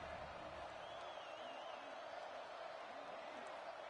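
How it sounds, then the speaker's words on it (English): A stadium crowd in the college football video game NCAA 26 roars in a continuous dense wall of noise, a broad steady din with scattered whistles and shouts, during a fourth-down defensive stand. "The crowd is loud, hoping for a fourth down stop."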